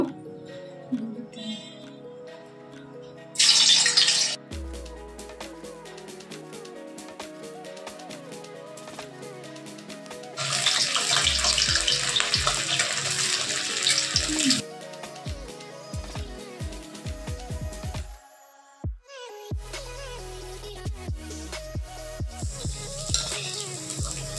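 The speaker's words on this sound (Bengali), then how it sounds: "তেলটা গরম হয়ে গেছে, আমি এবার এগুলো ভেজে নেব" Pieces of cut flour dough frying in hot oil, heard as intermittent bursts of bright sizzling that swell and fade, with occasional soft clinks of a utensil between them.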